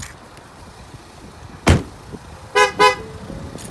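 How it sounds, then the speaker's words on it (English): A short electronic chirp followed by two quick, bright beeps from a parked 2016 Ford Explorer Limited, warning the key fob has left proximity, over quiet outdoor background. "The vehicle will automatically beep to let you know that the key fob has lost proximity of the car"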